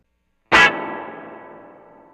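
A homemade analog spring reverb with its damping sponge removed is struck once, giving a sudden loud burst followed by a long, metallic, ringing decay that fades slowly over a couple of seconds.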